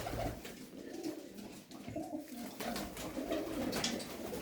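Blue pigeons coo at close range, soft low rolling calls repeating steadily over a dense, busy background.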